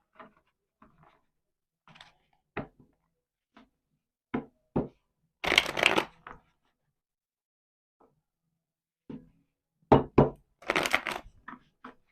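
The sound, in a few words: tarot cards being shuffled for a reading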